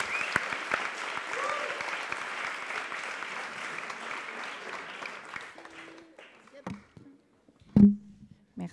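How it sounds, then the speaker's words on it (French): An audience at a web development bootcamp demo day applauds its cofounders, a steady wash of clapping that fades out, followed by a few isolated taps and a voice near the end. "je vous demande un tonnerre d'applaudissements pour Mong, Malo et Justina de la Vega"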